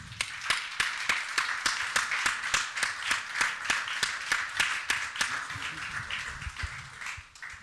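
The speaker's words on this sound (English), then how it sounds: "it's time, I think, for all of us to applaud you" A conference audience claps steadily, a run of crisp, evenly spaced claps at close range that holds for several seconds before thinning out at the end.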